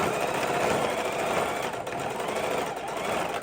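A heavy-duty sewing machine stitches slowly over thick beads on a fidget quilt, producing a steady, close mechanical whir and rapid needle chatter throughout with no pauses.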